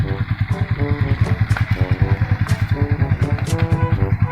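A motorcycle engine idles nearby with a steady, throbbing low rumble and regular pulsing beats, joined by faint background noise and occasional brief clicks.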